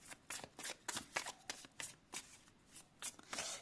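Tarot cards shuffled by hand in a rapid riffling series of crisp, papery bursts, close and clear, with short pauses between bursts and no speech.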